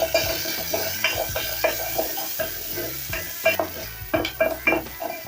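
Onion is added to ginger in oil in a pot, giving a crackling sizzle broken by repeated clattering stirs and scrapes of a utensil against the pot, close and fairly quiet.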